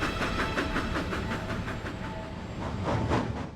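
Cartoon steam engine puffing along railway sidings, a steady rhythmic chuffing with hissing steam and rail clatter, moderately loud and continuous, with background music and no speech.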